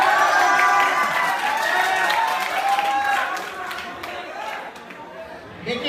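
A comedy show audience claps and cheers in a loud, dense burst that slowly fades. Chatter from the crowd mixes in as the applause dies down.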